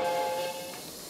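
Heritage train on a railway beside the Merrimack River, a steady hiss of steam with a sustained whistle-like tone holding through, fairly loud and close, fading slightly toward the end, no voices.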